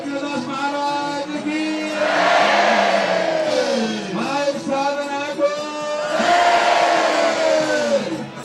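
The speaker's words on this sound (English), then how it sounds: "sound triggered the thousands of audience members inside and beyond the ashram to chant Om and begin their applause" Thousands of people at an open-air ashram in Pokhara chanting Om in unison, a loud, sustained, droning mass of voices that swells, dips and swells again.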